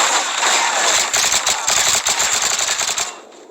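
Rapid gunshots in a video game ring out as a loud, dense automatic burst, with shots tightly packed for about three seconds before cutting off abruptly into near silence.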